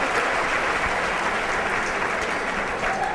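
A large audience claps steadily in a hall for a public speaker who has just taken the stage, a dense, even wash of applause that holds loud throughout with no break.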